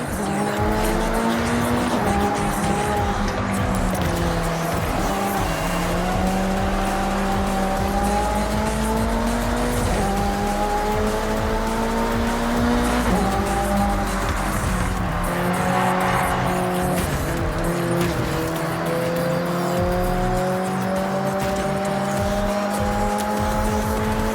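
Race cars in the Forza Horizon 6 video game roar continuously at high revs through a Tokyo city race, with tire squeal and skidding on the turns over a loud, unbroken engine drone.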